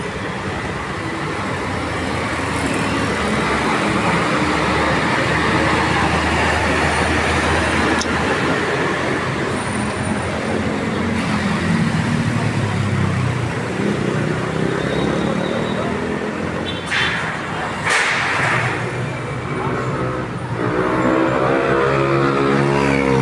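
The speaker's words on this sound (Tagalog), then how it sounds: "Salamat tayo guys, hindi masyadong traffic dito ngayon. Okay lang ang flow ng traffic." Steady road traffic flows through a town street in Consolacion, Cebu, a continuous loud roar of passing vehicles and engines with occasional louder passes, and a voice talking over it.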